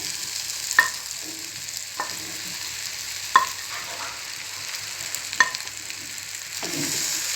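Mushrooms are stirred into frying masala for mushroom sukka: a soft steady sizzle with a handful of sharp spatula clinks and scrapes at uneven intervals, close by and without voices.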